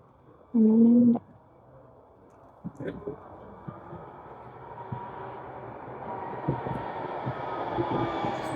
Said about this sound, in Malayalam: ട്രെയിൻ വരുന്നുണ്ട് കേട്ടോ